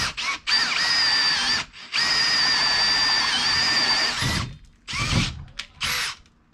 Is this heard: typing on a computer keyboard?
no